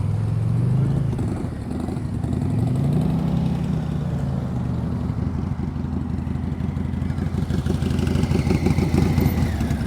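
A motorcycle creeps along at slow speed in the clutch friction zone, its engine a loud, steady low rumble that rises and falls slightly in pitch and holds close throughout.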